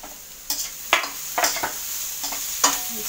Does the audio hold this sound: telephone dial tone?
no